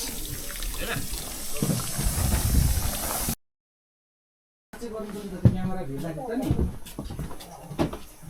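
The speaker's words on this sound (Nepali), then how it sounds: "यहाँको धारा चाहिँ यस्तो हुन्छ क्रिस्टल वाटर" Clear water gushes from a tap in a steady, close hiss for about three seconds, then cuts off; after a short silence someone talks while faint background noise continues.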